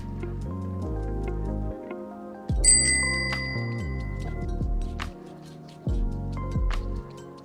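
A handlebar-mounted bell on a 16- or 20-inch Lil' Dutchi Roadster children's bicycle rings several times, each bright metallic ding trailing off over a loud, low rumble in the background.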